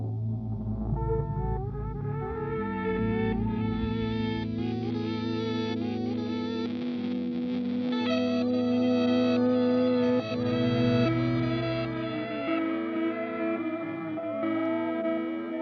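Sustained, shimmering guitar tones layer into a drifting loop through a Microcosm pitch-shifting looper pedal, with octave-shifted voices, chorus and distortion swelling over a low drone.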